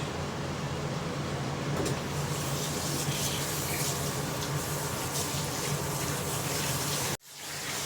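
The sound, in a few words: running water washing off a mud pack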